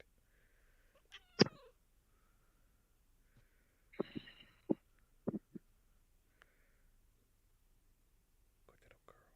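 A pet cat, a female, gives a few short meows spread across the moment, alongside soft whispered coaxing from a person nearby.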